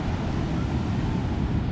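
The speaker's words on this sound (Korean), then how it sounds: "파도가 좋아서 서핑 장비를 대여하기도 하나 봐요. 파도가 진짜 좋다." Ocean waves break at a surfing beach in Phuket, heard as a steady, loud wash of surf and wind noise with no pauses and no voices.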